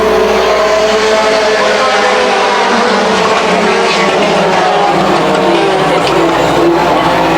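A Thunder Stock race car roars hard on the Thunder Speedway oval, a loud, sustained engine drone with tire noise. An announcer talks over it.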